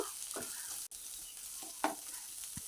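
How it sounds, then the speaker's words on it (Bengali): Ginger paste and garlic fry in a pan with a soft, steady sizzle, broken by a few quiet scrapes of stirring. The sound is close but low in volume, with no talk. "আদা বাটাটাও ভালো করে একটু ভেজে নেব"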